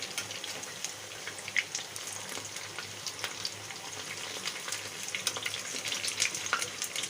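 Brinjal and potato kebabs sizzle steadily in ghee in a pan, a soft continuous crackle scattered with small pops and spits, fairly quiet and close, with no voices.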